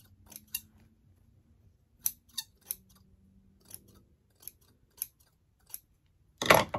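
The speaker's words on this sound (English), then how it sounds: "So we're gonna cut in, break those fibers." Scissors snipping decoupage paper while cutting up a footstool's straight edges, about a dozen crisp separate cuts spaced irregularly, close in a quiet room, ending in a louder rustle of paper.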